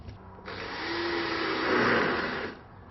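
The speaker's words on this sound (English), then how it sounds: "the first thing to do is just to put an initial placing screw over here and over here" A power drill drives screws into a Mitek UltraSpan roof truss, one steady whirring run of about two seconds that rises slightly in strain midway before stopping, heard close with no talk.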